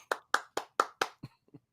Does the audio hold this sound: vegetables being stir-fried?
no